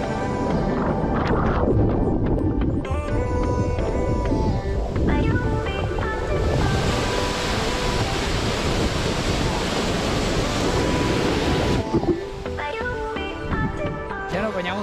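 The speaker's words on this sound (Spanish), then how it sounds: "Un rato en esta catarata que está lindísima" A waterfall plunges into a cold pool, a dense, steady roar of splashing water that stays loud and unbroken throughout, with a slight shift in tone near the end.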